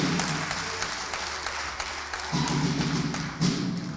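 An audience applauds a football club's head coach after a run of league matches. The clapping is a steady, moderately loud wash of many hands, with a few louder thumps near the end.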